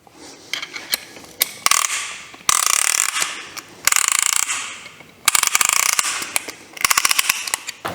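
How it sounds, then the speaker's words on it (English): A ratchet handle is cranked to tighten a piston ring compressor around a piston during Mazda MX-5 engine assembly. It gives loud, close, rapid clicking in several quick runs broken by brief pauses, with no talk. "now we can crank it close to start to compress the rings"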